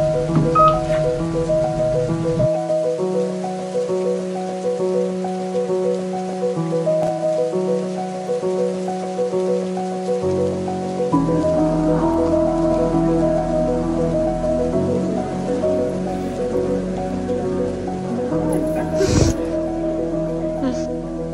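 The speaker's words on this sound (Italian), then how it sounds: "Piove, spiovicica, infatti mi devo un attimo muovere." Steady rain falls on a city street in Milan, a broad even hiss running throughout, with a low hum of traffic beneath and no voices heard.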